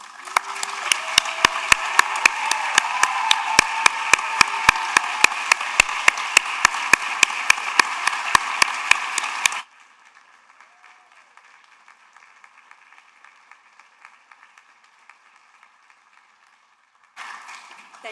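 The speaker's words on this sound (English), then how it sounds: "If you are an award recipient, will you please stand so we can give you one more round of applause." Audience applause for award recipients at an honors and awards ceremony: loud, dense clapping from a large crowd for about nine seconds, then a sudden drop to a faint murmur, and a brief burst of clapping returns near the end.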